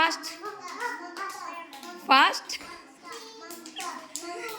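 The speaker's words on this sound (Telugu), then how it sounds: "క్లాప్స్ కొట్టండి" Children at an anganwadi preschool clap their hands in short, irregular bursts while a child and an adult talk over them.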